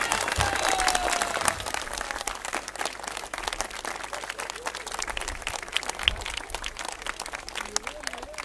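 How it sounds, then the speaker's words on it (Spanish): A crowd at an outdoor community event for an asphalt inauguration gives a round of applause, dense clapping that gradually thins out, with some voices mixed in. "¡Un fuerte aplauso!"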